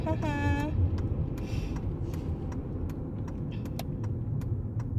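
A police car drives past on a road, a steady engine and tire rumble beneath a short rising tonal sweep at the start and scattered clicks.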